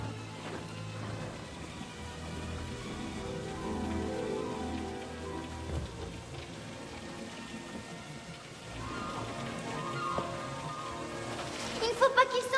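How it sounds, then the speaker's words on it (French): Steady rain falls outdoors in a continuous soft patter, with low voices and faint background sounds drifting underneath and a few sharper drips near the end. "Regarde, la pluie ne lui fait aucun mal."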